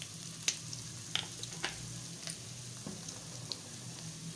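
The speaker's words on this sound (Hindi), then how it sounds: "ये हमारी चिकन जो है आपको नज़र आ रही होगी, ये कहीं से फ्राई हो चुकी है और कहीं से रह गई है" Chicken frying in oil in a kadai, a soft continuous sizzle broken by a few faint clicks and taps of stirring, quiet and with no one speaking.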